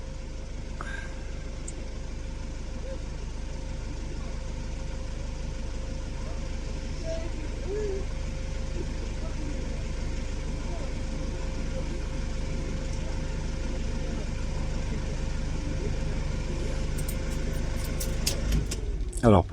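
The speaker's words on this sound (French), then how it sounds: "Le camion à sa pleine puissance" 2018 Mercedes Sprinter van with an AdBlue fault limiting it to 20 km/h, engine running at full power: a steady, loud, broadband rumble that holds for the whole stretch, ending with a few sharp clicks.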